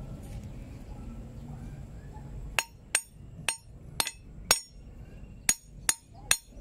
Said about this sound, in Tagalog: Kailangan eh bagang-baga habang pinupukpok mo mga kailog kasi madaling lumamig.